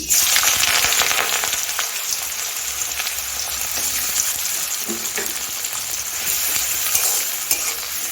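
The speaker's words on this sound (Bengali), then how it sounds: "কড়াতে আমি সর্ষের তেল দিয়ে গরম করে নিয়েছি এখন আমি পেঁয়াজটা ভেজে নিচ্ছি" Onion frying in hot mustard oil in a wok, a loud, dense sizzle with stirring scrapes running steadily throughout, no talk.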